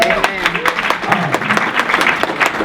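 An audience at a speaking event cheers and claps loudly. Sharp, irregular hand claps pop through a broad wash of crowd noise, with a voice running underneath.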